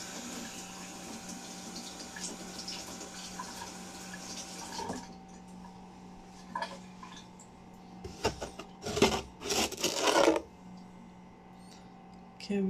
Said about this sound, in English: Gotta rinse off my spoon to use the sugar.